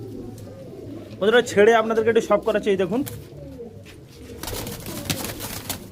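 Madras pigeons coo softly in a pigeon shop, a low murmur running beneath a man's close, continuous talking for most of the clip.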